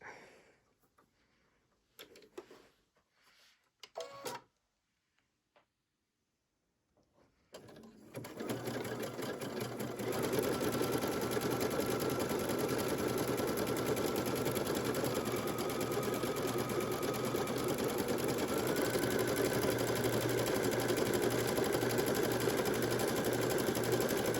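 Sewing machine fitted with a three-hole cording foot, starting after some quiet handling clicks and then running steadily with a fast, even mechanical whir and tick of stitching that continues close and alone.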